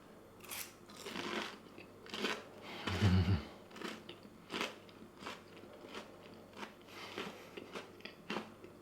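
Crunchy Japanese fried chicken with soy sauce and sesame being bitten into close to the mic: a loud central crunch followed by several softer crisp chewing crackles, no talking.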